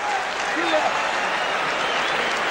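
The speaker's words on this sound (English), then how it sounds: "Garnett gets a nice round of applause as he comes off." A basketball arena crowd gives Kevin Garnett a warm round of applause as he leaves the court, a dense, even clapping wash with a commentator's voice talking over it.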